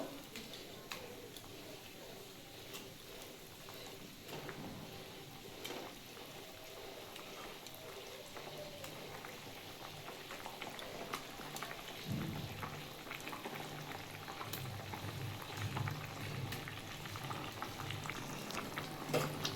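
Vegetarian curry broth with boiled potatoes bubbles at a steady simmer as cabbage fritters go in, a continuous soft bubbling hiss with a muffled thud partway through.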